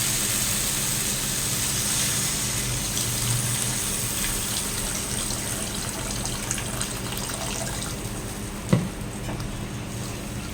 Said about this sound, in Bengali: এবার জলটা দিয়ে দিই তাহলে।